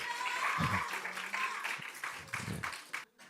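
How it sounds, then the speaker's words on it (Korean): A youth church congregation gives a round of applause during a sermon, moderate scattered clapping with some chuckles and voices mixed in, tapering off at the end. "박수 한번 주세요"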